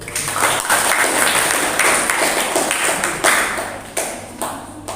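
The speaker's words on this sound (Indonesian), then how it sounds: "Kita kasih tepuk tangan untuk kelompok 1." Students in a geography classroom clap for a presenting group, a loud scattered round of applause with uneven bursts that thins into a few separate claps near the end.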